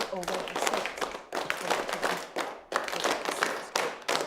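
Sharp hand claps in a steady, repeated rhythm, close and fairly loud, with short pauses between groups of claps.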